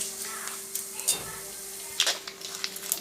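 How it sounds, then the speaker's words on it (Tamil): Grated coconut roasts in a pan for pumpkin erissery, with a faint, steady sizzle broken by several scraping stirs of a spatula at close range. "அந்தளவுக்கு நம்ம வந்து தேங்காய் நல்லா வறுத்து எடுத்துக்கலாம்."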